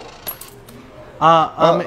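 Coins drop and ring out twice in quick succession, bright metallic clinks as change is handed over, sounding close, with faint background murmur before them.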